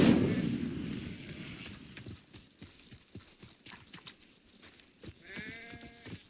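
Incendio fire spell cast in the Hogwarts Legacy video game: a loud, low whooshing burst at the start that fades over about two seconds, followed by scattered soft clicks and a brief tonal chime near the end.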